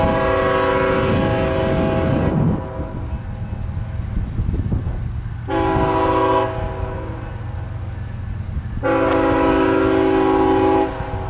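A BNSF freight train horn blares in three long, loud blasts separated by pauses, over the steady rumble of passing railcars in Brainerd, Minnesota.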